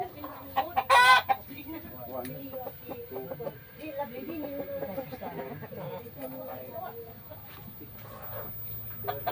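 A chicken clucks and a rooster lets out a short squawk close by, under ongoing outdoor chatter between several people.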